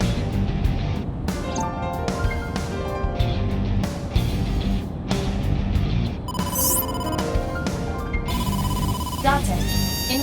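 Phone ringing with an incoming call in the video game AI: The Somnium Files, a repeating electronic ringtone over game music and ambience, with a rising chime near the end.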